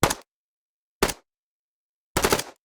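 Three sharp gunshots, spaced about a second apart, each a quick bright crack with a short tail; the last is slightly longer and fuller.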